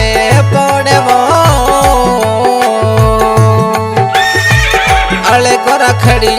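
A horse whinnies amid loud folk devotional music with a steady drum beat and melodic instruments. The neigh sits within the dense music, and no hoofbeats stand out clearly.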